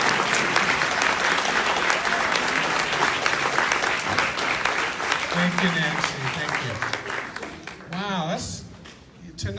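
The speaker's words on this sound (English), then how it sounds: "give a warm round of applause for all of our graduates" Sustained applause from a graduation-ceremony audience at a student awards night, dense steady clapping throughout that thins slightly toward the end, with voices audible underneath.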